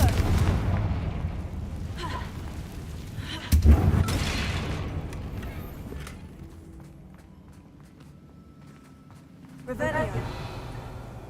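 A Confringo spell explosion in a Harry Potter video game lands as a loud, sharp boom with a sudden burst. A second impact follows near the end over a low, continuous game rumble.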